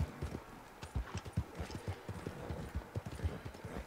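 Horse hooves clip-clopping in the Western video game Red Dead Online, a steady rhythmic trot of hard, close hoofbeats repeating throughout with faint background ambience.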